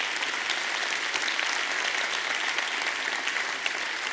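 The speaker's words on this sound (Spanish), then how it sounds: "político, crítico de cine, don Héctor Soto, para quien también le pido un aplauso." Audience at a conference lecture clapping steadily for a moderator being introduced, a dense sustained round of applause filling the hall.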